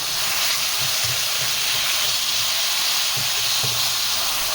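Chicken cooks in about a quarter cup of oil in a kadai for white Sindhi-style chicken kadai, giving a steady, loud broadband sizzle and hiss throughout, with faint low bubbling underneath and no talking.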